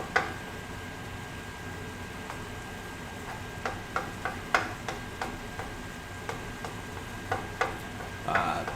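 Tomato paste fries in a pan for a cottage pie, a soft steady sizzle broken by scattered light ticks and taps from stirring, fairly quiet and with no talking.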